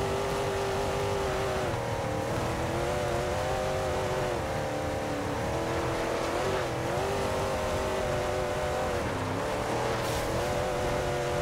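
A car drifting in Forza Horizon 2 keeps up a loud, continuous engine drone and tyre squeal, the pitch wavering as revs rise and fall through the slide.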